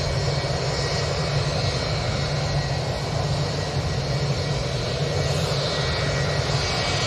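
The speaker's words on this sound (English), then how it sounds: "A350-900 coming in" Airbus A350-900 airliner coming in to land at Manchester Airport, a steady roaring engine drone that fills the whole stretch, loud and broad with no voices over it.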